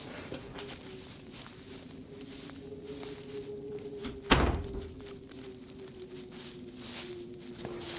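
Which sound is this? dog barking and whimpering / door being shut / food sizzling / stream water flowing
door being shut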